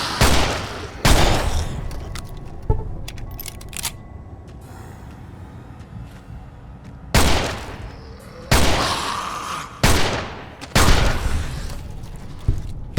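A pistol fires in Fallout: New Vegas, fought against ghouls: about six loud, sharp shots, each with a short echoing tail, spaced irregularly over steady background ambience.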